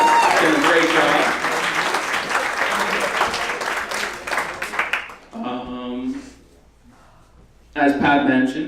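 Wedding guests clap and cheer for the evening's MC at a reception, a loud dense burst of applause that fades, then brief voices and a short second round of clapping near the end.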